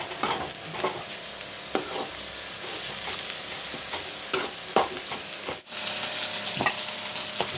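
A seasoned mixture is stirred in a hot frying pan, a continuous sizzle broken by repeated scraping strokes of a utensil against the pan, close and clear.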